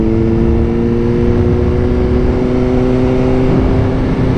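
Suzuki Gixxer motorcycle engine running loud and steady, a constant droning hum with a slight rise in pitch, heard close up throughout with no voices.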